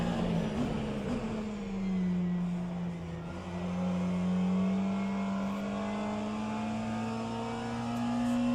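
Hypercars in a virtual endurance race sweep past one after another, a steady, loud engine drone rising and falling in pitch as they pass, with no talk.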